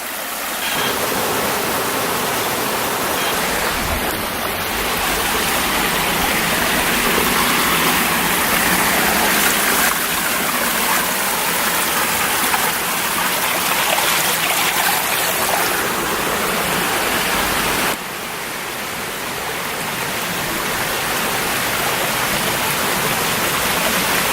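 Grayville Falls, a waterfall pouring over a wide section of stepped rocks, makes a loud, steady broadband roar of rushing water that stays constant throughout with no voices.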